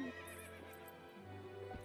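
Epona the horse in Zelda: Twilight Princess gives a short whinny along with clip-clop hoofbeats, with game music underneath.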